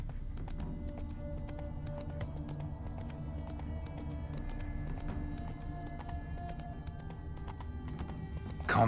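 Roach, the horse in The Witcher 3: Wild Hunt, trots with a steady clip-clop of hooves, close and even, against a low game ambience, and gives a brief whinny near the end.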